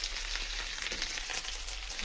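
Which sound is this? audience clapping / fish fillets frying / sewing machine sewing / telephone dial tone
fish fillets frying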